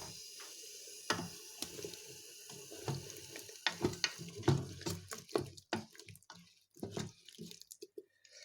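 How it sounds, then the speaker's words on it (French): Water poured from a container into a cooking pot for apple compote, with splashing drips and irregular liquid bursts over a few seconds, close and moderately quiet, no talking. "Ensuite, je rajoute mes 200 ml d'eau, voilà."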